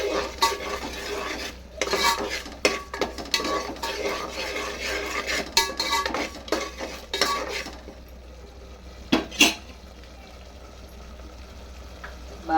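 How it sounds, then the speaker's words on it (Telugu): Salt and turmeric being stirred into a tomato rice mixture in a pan, with repeated scraping and clinking of a utensil against metal over a soft sizzle, then quieter toward the end. "ఉప్పు, కొంచెం పసుపు. ఇవి కూడా బాగా కలిపేస్తాను."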